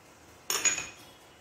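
A brief clatter as sugar, eggs and oil are mixed in a bowl for basbousa, one quick clinking scrape of utensil on bowl lasting under half a second, close and alone.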